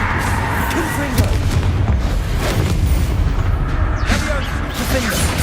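The explosive spells Bombarda and Confringo go off in the video game Hogwarts Legacy, making loud, dense booms and crashing blasts that repeat throughout, mixed with game sound and a voice shouting spell names.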